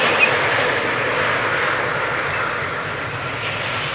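A German Airways airliner operating for KLM flies near Amsterdam Schiphol Airport, a steady, loud broadband jet roar holding even throughout with no voices.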